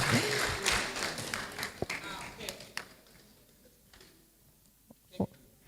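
An audience at a debate championship awards ceremony claps in a scattered burst that thins out into a few isolated claps, with a voice speaking over the fading applause.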